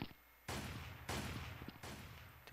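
Three loud, sharp sniper rifle shots ring out in a video game at roughly even intervals, each one a sudden crack with a short trailing decay.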